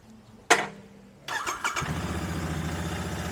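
A Royal Enfield Continental GT 650 motorcycle, 120th Anniversary edition, cold-starting in a parking lot: a sharp click, a brief starter whir, then the twin engine catches and settles into a steady, throbbing idle close by.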